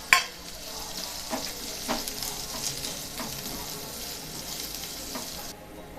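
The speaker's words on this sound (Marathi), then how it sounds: "त्यावरती कांदा काढून घेऊया आणि कांदा छान खरपूस होईपर्यंत भाजून घेऊया" Chopped onion roasting in a teaspoon of oil in a pan until crisp, a steady soft sizzle broken by a few sharp spatula scrapes and clinks, fairly close and alone, thinning out near the end.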